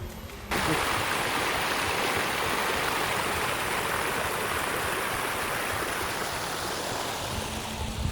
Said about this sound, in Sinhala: හැබැයි වතුර සද්ද ඇහෙනවා.